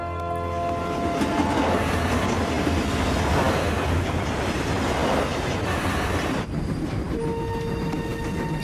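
A train rumbles steadily along the rails, loud and close, with rhythmic clattering of wheels and a faint high squeal.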